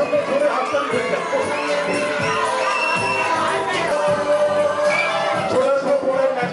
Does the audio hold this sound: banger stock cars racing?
no